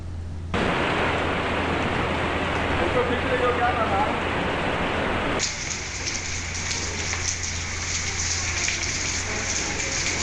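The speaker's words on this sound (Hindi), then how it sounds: "पटना और आसपास के जिलों में सुबह से रुक रुक कर बारिश हो रही है।" Steady rain pours down in Patna, Bihar, a dense, even hiss that fills the whole clip and grows brighter and harsher partway through, with no voices.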